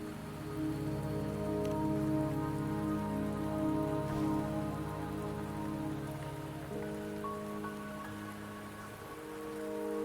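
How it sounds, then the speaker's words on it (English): Steady rain falls in the video game Wuthering Waves, a dense even patter of drops on surfaces, with soft tonal game music underneath and no talking. "The rain won't last much longer."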